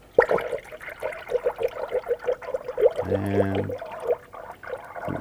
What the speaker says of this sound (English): Go ahead and add the appropriate coolant per the manufacturer specifications.